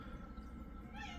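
A domestic cat gives one short, faint meow near the end, heard against a low, steady background hum.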